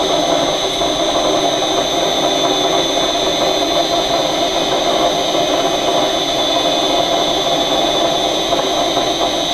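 An electric motor runs on a VEVOR HY01D523B variable frequency drive slowed to 41.5 hertz, giving a constant, fairly loud whine and hum with no change in pitch.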